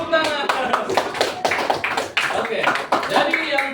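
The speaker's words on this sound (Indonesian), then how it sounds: "Kuat, tepuk tangan." Classroom of fourth-grade students applauding a student group, a dense patter of many hands clapping under lively chatter and voices throughout.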